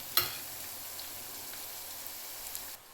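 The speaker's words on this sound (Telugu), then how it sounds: "సో ఉల్లిగడ్డ మంచిగా డీప్ ఫ్రై చేసుకోవాలి, అప్పుడు బాగుంటుంది." Onions deep frying in hot oil for chicken curry give a steady, faint sizzling hiss after a brief clatter at the start, with a few small pops before the sound cuts off.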